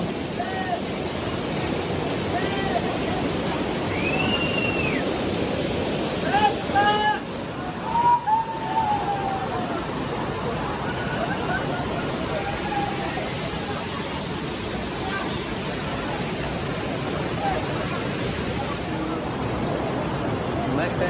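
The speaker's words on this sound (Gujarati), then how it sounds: "ખૂબ સરસ ધોધ પડે છે જો" A steady, loud rush of falling water roars without pause throughout, with faint bird chirps and brief distant sounds above the constant noise.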